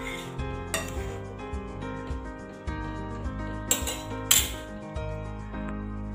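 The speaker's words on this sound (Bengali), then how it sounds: "এবার আমি এর মধ্যে ধনেপাতা কুচি দিয়ে দেব। ভালো করে মিশিয়ে দেব।" Chopped coriander is stirred into boiling moong dal cooked with figs, with a few sharp metal clinks and scrapes of a spoon on the pot over steady tonal music.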